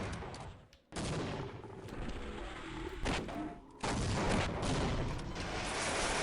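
Loud gunfire in the Half-Life video game rattles out in long sustained bursts, briefly cut off near the start and again midway before resuming, with no talking.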